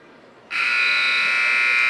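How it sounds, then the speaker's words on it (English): A loud, sustained electronic buzzer sounds suddenly in a high school gymnasium to end a period of a wrestling match, droning continuously over quieter crowd noise. "As you hear the buzzer sound at the Quaker Gymnasium, bringing the second period to a close, New Philadelphia veteran Casey Swinderman"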